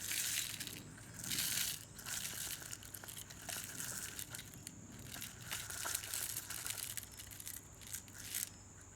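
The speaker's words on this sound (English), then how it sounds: "I'm just using a small funnel to get the stones down the side." Small stones are poured through a small funnel down the inside of a plastic bottle vase, giving a quiet, continuous gritty rattle and crunch with occasional louder bursts, close by and without talk.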